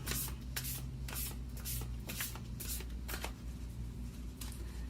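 Moonology oracle cards being shuffled under hot lights, a run of soft papery riffles and slaps that keeps up steadily over a low background hum, with no talking.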